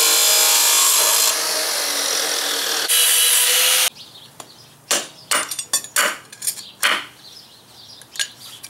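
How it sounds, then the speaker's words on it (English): A power tool cuts a weld loose on a metal walking stick: a loud continuous high grinding whine for about four seconds, then a series of sharp scraping bursts and clicks as the cut piece is worked. "I'm gonna have to very carefully cut this loose"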